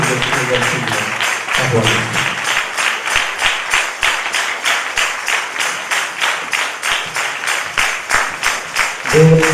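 A crowd at the Bethesda tabernacles church festival in Tadepalligudem claps in steady, rhythmic unison, loud and close, with a voice speaking briefly at the start and end.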